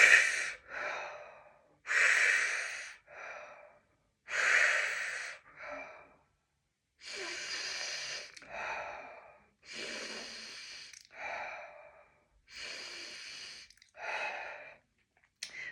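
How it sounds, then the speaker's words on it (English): Deep breathing exercise alternating mouth and nose breaths: about nine slow, airy inhales and exhales in an even rhythm, separated by short silences, close and clear with no speech. "3 mouth breaths, 3 nose mouth breaths"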